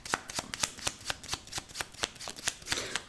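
A deck of cards being shuffled and cut, giving a steady run of crisp riffling snaps at a quick, even rhythm, close and fairly quiet with no talking.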